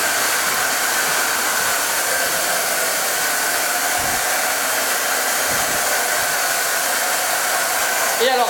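A noisy black-water treatment machine at Concordia station in Antarctica, which filters dirty water, gives off a loud, unbroken, hissing whir close by throughout.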